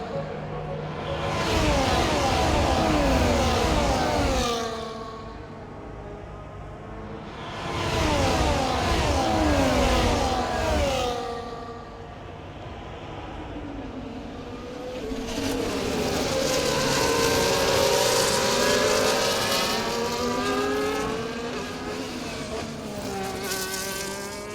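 High-revving F1 race car engine on the Baku street circuit in the EA Sports F1 game, a loud buzzing whine that sweeps up and down in pitch through gear changes, with several surging bursts of full throttle.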